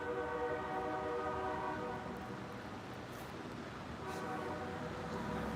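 A distant train horn sounds as a sustained chord over steady background noise, fading briefly in the middle and then swelling back, with no talk.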